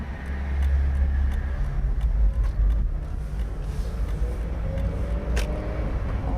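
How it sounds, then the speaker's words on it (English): A car at a pedestrian crossing during a driving lesson, heard as a steady, close low engine and road rumble with faint mechanical clicks throughout. "So, make sure the car stops."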